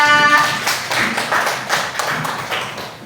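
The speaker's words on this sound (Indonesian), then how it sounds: "Kasih tepuk tangan untuk Jahira." Schoolchildren in an Indonesian classroom clapping for a classmate, a close, fairly loud burst of rhythmic hand claps lasting a few seconds, with a brief tonal voice at the very start.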